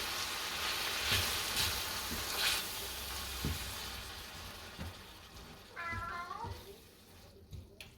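Home-canned diced tomatoes with basil hit a hot frying pan on medium heat and sizzle with a soft, crackling hiss. A cat meows toward the end, and there is faint background noise throughout.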